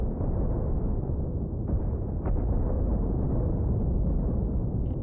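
Cannon fire and ship explosions in a naval battle video game set around a military shipyard station, heard as a continuous loud, dense rumble of overlapping blasts with a few sharper bursts, and no talking.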